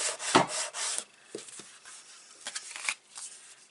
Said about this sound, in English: Give it a good rub from the inside.